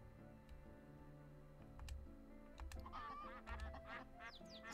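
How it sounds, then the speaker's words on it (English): Ducks and chickens in the farming video game My Time at Portia, a few quiet honking, quacking calls rising over a low steady background hum, with no talk. "Ducks! Chickens!"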